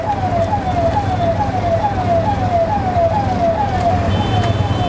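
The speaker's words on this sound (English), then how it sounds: "apparently nobody cares about that ambulance." An ambulance siren wails in Delhi traffic, a repeating falling two-tone sweep cycling steadily about every half second over a low rumble of engines, moderately close.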